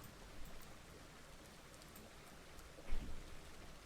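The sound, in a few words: rain falling in Farmer's Dynasty video game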